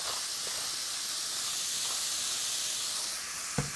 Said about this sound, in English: we're going to saute this for a while until the meat gets really nice and brown and the mushrooms are golden brown too